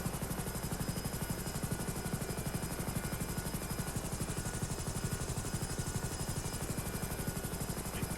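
A helicopter comes in to land in GTA 5, its rotor chopping in a fast, even pulse with a dense engine roar, loud and close throughout.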